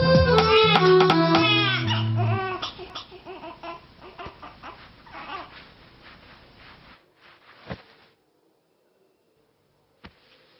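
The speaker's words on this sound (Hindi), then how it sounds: "बच्चा रो रहा है।" A baby cries in a Hindi-dubbed South Indian film scene, with loud wailing bursts at first that trail off into quieter whimpers, followed by near silence and a couple of faint knocks.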